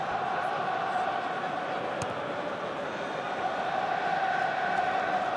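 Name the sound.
French rugby supporters singing in the stadium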